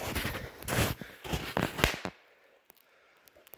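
A rapid string of sharp bangs from a Dum Bum Nano firecracker crackles loudly for about two seconds, then a few faint scattered pops in near silence.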